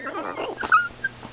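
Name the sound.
dog howling and whimpering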